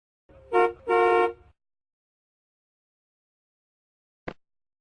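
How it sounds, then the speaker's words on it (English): A car horn honks twice in quick succession, two loud sustained blasts up close, followed after a pause by a brief faint click. "Car."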